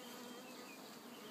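Honey bees from an opened hive droning in a steady, dense buzz that holds even throughout, close and continuous with no voices.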